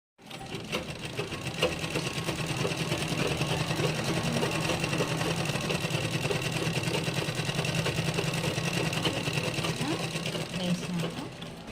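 A sewing machine stitches a collar-neck top in one long, continuous run, its rapid, even needle chatter holding close and loud for about ten seconds before easing off.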